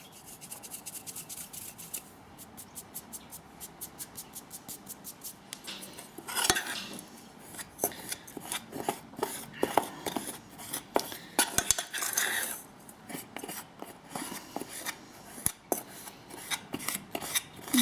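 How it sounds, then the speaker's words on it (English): Scraping, rubbing and clinking of a utensil against a bowl while lumps are broken up in a homemade ayurvedic shampoo mixture, faint and close, in an irregular stirring rhythm with occasional sharper knocks. "Got a lump in here, look, a big lump. Just breaking that up."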